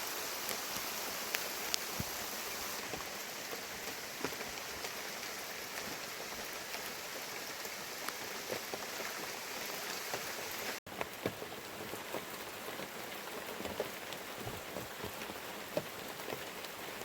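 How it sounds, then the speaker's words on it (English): Steady rain falling on surfaces, a constant hiss with scattered drips and taps, consistent throughout with no voices. "we're having nice consistent rain."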